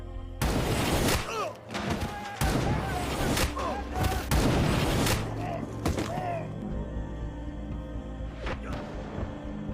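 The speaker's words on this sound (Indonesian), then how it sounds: "tiba-tiba sebuah tembakan melesat, satu peluru yang membuat satu persatu pasukan CIA tumbang" Sharp, loud gunshots in a film crack out irregularly among heavy thuds, with dramatic music and shouts running underneath.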